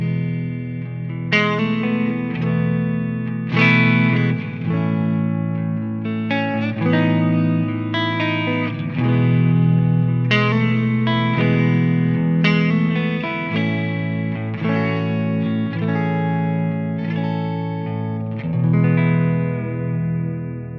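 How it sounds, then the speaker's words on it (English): An electric guitar is played slowly through a hall reverb effect, with single notes and chords ringing out into a wide, lingering wash that fills the space between each plucked phrase, steady and clear with no talk. "the hall reverb is a lot more effective when you play slower and when you want the reverb to kind of fill the space underneath your guitar sound"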